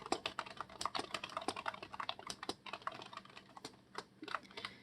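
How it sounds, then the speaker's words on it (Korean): Rapid keystrokes on a computer keyboard while entering text in Hangul 2016 for an ITQ exam practice task, a quiet, irregular patter of close clicks with no talking. "먼저 타이핑 하겠습니다"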